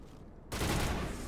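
Sudden burst of sustained automatic gunfire erupts in the Mass Effect Legendary Edition video game, a loud dense fusillade that cuts in abruptly after near silence and continues without pause.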